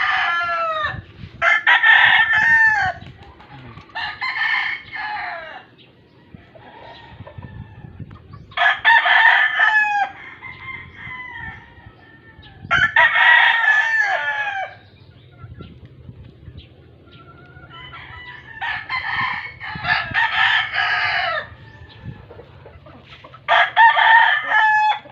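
Roosters crow loudly and repeatedly among clucking chickens in a Filipino farmyard around feeding time, long ringing crows recurring every few seconds over a steady low rumble of background noise.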